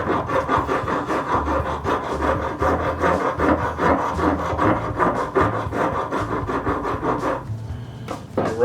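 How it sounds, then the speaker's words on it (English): A half round rasp filing the wooden tote of a Stanley Bailey No. 4 hand plane during repair, steady rhythmic rasping strokes, close and fairly loud, with a brief pause near the end. "I'm going to use this half round rasp a little bit in here."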